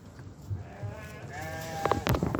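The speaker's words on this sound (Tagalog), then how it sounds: "Yung lalaking kambing." A male goat bleats with a wavering, nasal cry, close and fairly loud over low background noise, followed by a few sharp knocks.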